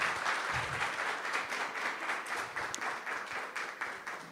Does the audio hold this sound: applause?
yes